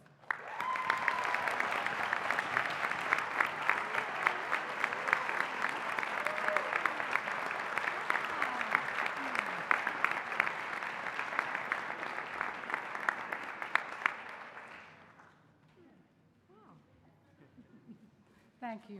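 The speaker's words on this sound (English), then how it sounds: "So please join me in a round of applause for Professor Hildreth." Audience applause at a 2017 college undergraduate recognition ceremony, a sustained dense clapping that runs loud for about fourteen seconds before fading out, followed by brief quiet.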